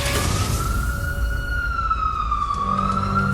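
An ambulance siren wails steadily in a single sustained, gently wavering tone, loud and close over a rumbling street background with no talk.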